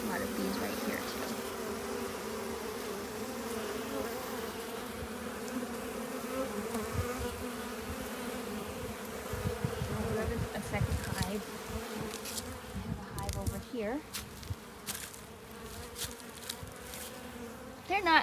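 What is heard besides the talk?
honeybees buzzing at hive entrance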